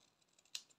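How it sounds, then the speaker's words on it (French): Scissors cutting paper to make a card banner, heard as a single faint, crisp snip over a quiet background, preceded by soft rustling. "vous coupez au milieu ici de votre papier jusqu'à la hauteur que vous voulez"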